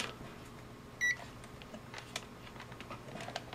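A Kasuntest ZT102 multimeter on diode check with shorted leads gives one short, clear electronic beep partway through, over a quiet room hum with faint scattered clicks.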